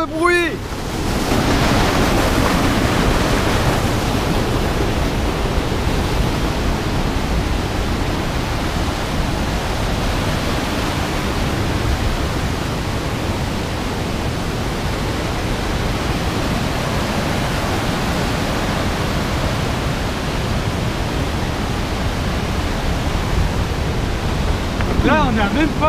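The flooded Tarn river roars as a dense, unbroken wash of rushing water, loud and close, steady for the whole stretch with brief voices only at the very start and end.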